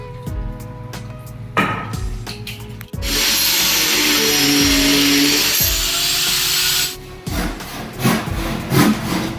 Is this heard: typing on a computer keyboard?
no